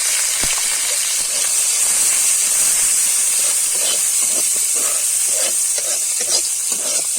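Onions and a green chilli or two hiss and sizzle steadily in hot oil in a pan during a rustic village-style ghugni preparation, a loud continuous frying noise with faint stirring clinks and no voices.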